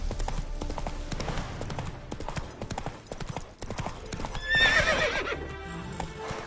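Roach the horse gallops in a video game, rhythmic hoofbeats pounding under background game sound, with a whinny cutting in near the end.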